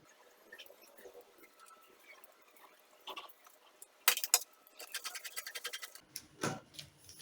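Scissors cut through fabric for a crossing peplum in quiet snips and scrapes, with a denser run of crisp cutting near the end, close and moderately loud with no talking.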